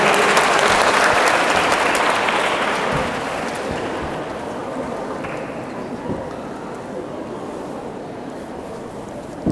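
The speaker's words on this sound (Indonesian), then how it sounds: "Tepuk tangan yang meriah." At a university student character-building event, an audience breaks into loud, dense applause that gradually thins and fades to a softer patter over several seconds.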